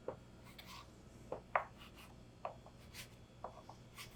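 A knife slices through rolled bread dough for awaze and pesto bread, cutting it into halves on a board; several soft, separate cuts and light scraping strokes land a second or so apart, close and quiet.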